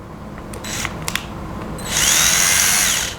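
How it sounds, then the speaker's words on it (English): A few clicks and taps, then a power drill whirs loudly up close, drilling holes steadily for just over a second before winding down. "and drill out some holes"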